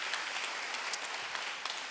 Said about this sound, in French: Sous vos applaudissements, bien entendu.